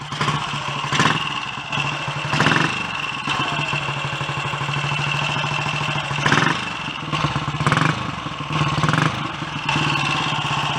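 A Royal Enfield Clipper 250 unit-construction single running on a bike lift in a workshop, a steady close thumping idle with mechanical clatter and a few brief blips of throttle, no voices.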